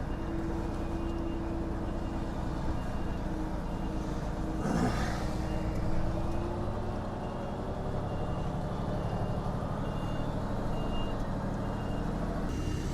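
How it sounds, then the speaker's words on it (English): A lorry reversing toward a fence with its beeper sounding a steady repeating tone over a loud engine rumble, a brief hiss of air near the middle. "I can see mesh in front of me, but I'm still going to reverse up to them."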